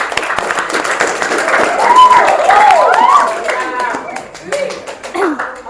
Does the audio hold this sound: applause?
yes